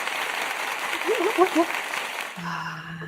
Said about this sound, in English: get some applause